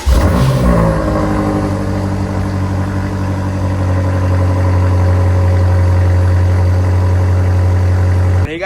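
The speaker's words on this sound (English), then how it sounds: "let's go ahead and remote start this bad boy" A BMW M5 Competition fires up by remote start and settles into a steady, loud, deep idle with a constant low rumble that continues unbroken to the end.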